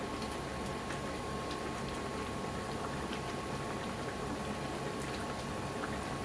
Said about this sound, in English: Okay, and you just let that simmer now.